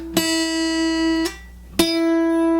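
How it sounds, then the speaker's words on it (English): The open first string of a guitar, a single high note, plucked three times, each one ringing clearly with long sustain and a faint low hum beneath. "This is what the first string open should sound like."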